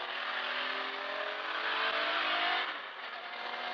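A BMW E36 M3 with an S54 engine gathers speed on the damp Nordschleife, a steady, loud engine drone whose pitch climbs smoothly through the rev range, heard alone without any talk.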